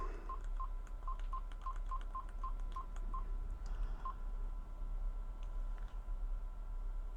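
A phone dials a mobile number through a BT Home Hub over SIP, sending a quick run of about ten evenly spaced DTMF keypad beeps followed by one more tone, all over a steady low hum and background hiss.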